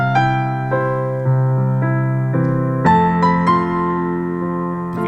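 Piano playing a song straight, with no added style: a steady melody of sustained notes over bass chords, close and clear, with no talking.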